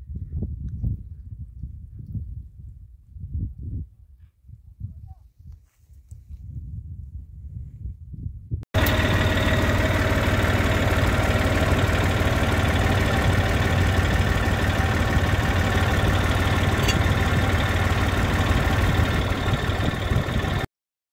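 A tractor engine idles in a carrot field in a village, a steady loud chugging drone starting abruptly after several seconds of quieter low rumbling and running continuously to the end.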